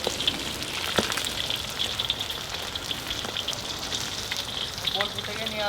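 Pieces of giant katla fish fry in oil with a steady close sizzle and scattered popping crackles, plus occasional light clinks, running without pause throughout.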